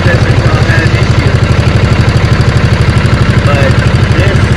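A John Deere zero turn mower engine idles steadily with a newly fitted ignition coil, a loud, close, even rhythmic chugging throughout.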